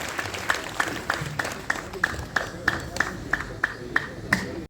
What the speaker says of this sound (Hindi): आप सबकी बहुत ज्यादा जोरदार तालियां।